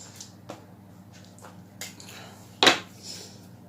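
A knife cuts through layered baklava pastry in a baking tray, giving a few faint crisp ticks and one sharp, close scrape-and-knock against the tray near the end.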